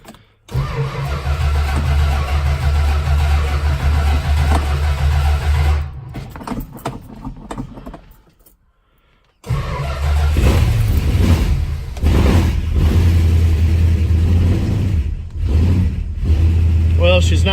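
A muscle car's engine cranks and catches, then idles roughly and revs loudly up close, dropping out briefly after a stumble before firing back to a strong, sustained roar.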